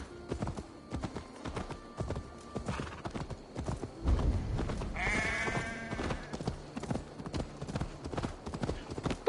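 Horse hooves clip-clop steadily in the Assassin's Creed Valhalla video game, with a whinny and bleating animals mixed in, while someone talks over the game sounds.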